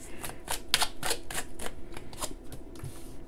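Tarot cards are shuffled by hand in a quick run of crisp riffling flicks and taps, close and fairly quiet, with no talking over it.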